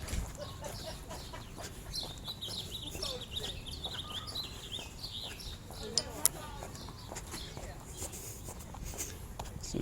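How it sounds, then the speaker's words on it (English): Many birds call and chirp busily outdoors in a residential neighbourhood on a spring day, a steady mix of overlapping tweets over light footsteps and background noise. "The birds are going absolutely crazy today."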